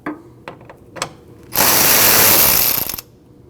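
Ratchet working an 8mm bolt just below the radiator coolant fill on a 2012-2021 Nissan NV2500 5.6L V8: a few sharp separate clicks, then a loud continuous rapid ratcheting burst lasting about a second and a half before stopping.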